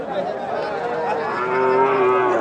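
At a crowded cattle market in Panchagarh, a local cow lets out one long, loud, drawn-out moo close by.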